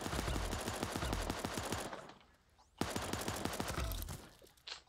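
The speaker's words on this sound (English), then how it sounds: "That was the grenade launcher" Rapid, dense gunfire bursts from the Super Animal Royale video game, with a grenade launcher in the mix, loud and close, breaking off for a short pause before another heavy volley resumes.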